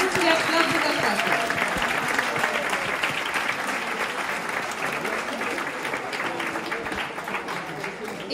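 Loud, sustained applause from an audience at a presentation event, dense clapping continuing at an even level with faint crowd murmur beneath, no speech.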